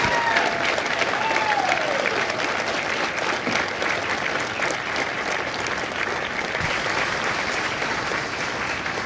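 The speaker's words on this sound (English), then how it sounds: "Ladies and gentlemen, a round of applause for their dedicated service to Corps and country." Marine veterans in the audience at a Marine Corps recruit graduation in San Diego receive a round of applause, a broad, steady wash of crowd clapping that holds evenly for about nine seconds.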